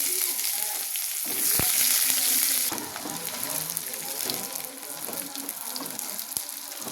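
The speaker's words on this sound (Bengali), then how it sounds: "পেঁয়াজটা ভাজা ভাজা হবে।" Onions sizzle steadily in hot oil in a wok, with a loud, close frying hiss throughout and a brief clatter of stirring near the start.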